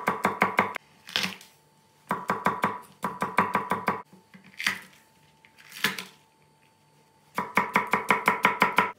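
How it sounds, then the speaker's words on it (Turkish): A knife chops bell pepper on a cutting board in quick bursts of sharp, rhythmic taps, separated by short pauses and the occasional scrape of gathering the pieces, close and clear with no talking. "Biberi doğradık, soğanları doğrayacağız."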